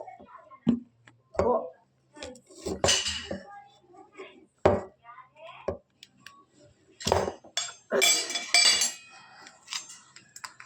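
Pots and dishes being washed by hand, with scattered clinks and scrapes of metal utensils and cookware in bursts, close by, with brief human sounds between.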